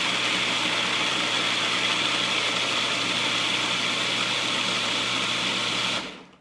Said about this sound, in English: put the lid on the food processor and just process it until it is smooth